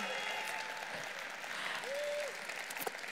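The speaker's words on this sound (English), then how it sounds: "Big round of applause." Audience applause at a business recognition event honoring a diamond director, a moderate steady patter of clapping in a hall, fairly even and not very loud.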